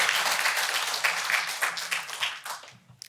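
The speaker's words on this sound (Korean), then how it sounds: "다시 한번 큰 박수 부탁드립니다." Applause rises from the audience at an awards-contest lecture hall, a dense, continuous wash of clapping that holds steady for about three seconds before thinning out at the end.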